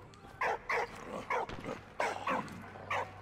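A dog in the video game Valiant Hearts barks in six short, evenly spaced yaps, fairly close and moderately loud, over a steady low game hum with no talk.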